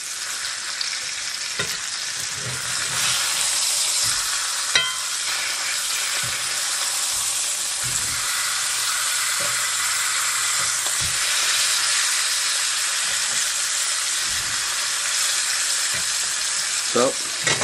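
Pork chops frying in hot fat in a pan, a continuous bright crackling sizzle with scattered pops and spits, steady and close throughout with no talking.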